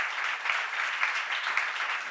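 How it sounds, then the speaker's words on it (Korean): A church congregation at a seminar breaks into sustained applause, an even, dense patter of many hands filling the room at moderate loudness with no voices standing out. "할 수 있다고 믿는 사람 박수 한번."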